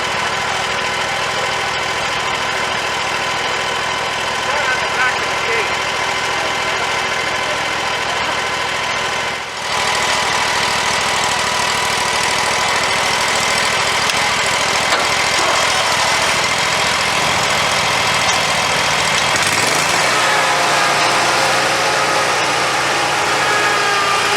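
A small engine idles steadily and loudly throughout, a constant mechanical drone with a brief dip partway before it resumes.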